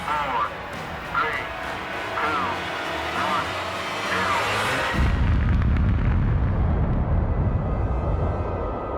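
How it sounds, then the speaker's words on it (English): An atomic bomb detonates at the Bikini Atoll nuclear test, a heavy low rumbling blast that swells midway and rolls on loudly to the end, with an earlier stretch of background murmur before it. "It would be the first atomic bomb to ever explode in peacetime"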